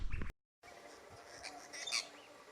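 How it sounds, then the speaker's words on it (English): Apostlebirds fly over Brigalow woodland, giving a few faint, scratchy squawks and chattering calls at a distance after a brief silent gap. "Got some apostle birds just here, flying over."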